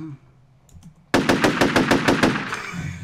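A gun in the video game Shellshock Live fires a rapid burst of about ten loud, evenly spaced shots after a quiet moment. The shots are close and punchy, and each one leaves a short ringing tail.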